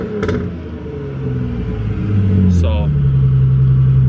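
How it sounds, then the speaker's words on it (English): Someone says a single word as a Ford Mustang with a custom exhaust idles with a deep rumble, then revs, its engine tone climbing and holding a loud, steady drone close by. "So I'm gonna give you guys a few revs here."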